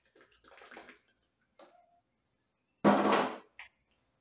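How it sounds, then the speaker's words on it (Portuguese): Meat being washed with water and lemon in a kitchen: short splashes and sloshing in separate bursts, with one louder, longer rush of running water near the end, close and alone without talk. "Vou lavar aqui com limão."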